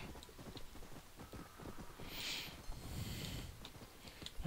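Horse hooves clip-clop in the Undead Nightmare video game, a quiet, steady run of muffled hoof beats with a brief whooshing swell midway and no speech.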